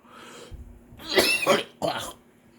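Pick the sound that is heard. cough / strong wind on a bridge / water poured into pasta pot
cough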